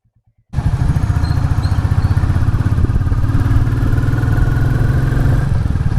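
Motorcycles setting off together on a group ride, a loud near engine drone kicking in suddenly after a short quiet start and holding a steady rumbling throb to the end.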